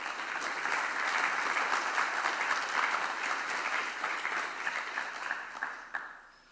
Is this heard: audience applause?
yes